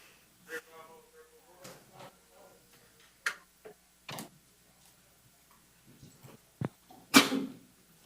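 A quiet courtroom with scattered clicks and faint voices, then one sharp, loud sneeze bursts out near the end.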